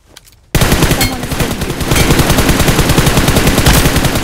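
Sustained rapid automatic gunfire in BGMI / PUBG Mobile, loud and close, starting abruptly after a brief quiet moment and continuing as a dense rattling burst with no talking.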